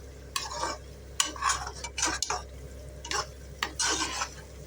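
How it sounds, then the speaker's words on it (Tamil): Rice being stirred and fried in a pan for mutton biryani: repeated scraping bursts of a spoon against the pan in an irregular rhythm over a faint sizzle, close and with no talking. "ரைஸை இதோட போட்டு வதக்கலாம்"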